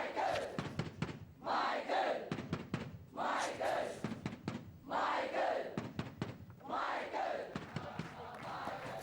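A home crowd watching a doubles game of Eton Fives cheers and shouts in repeated loud swells, roughly four bursts with short lulls between them and some thuds mixed in.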